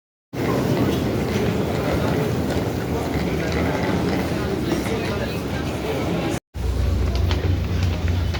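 Steady loud rumble of a train running along the tracks, continuous and close, with a brief cut near the end and a deeper hum afterward.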